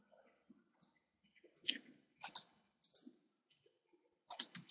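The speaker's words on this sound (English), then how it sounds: "So I'm going to click on this file." A computer mouse gives a few sharp, close clicks at irregular intervals against a quiet background.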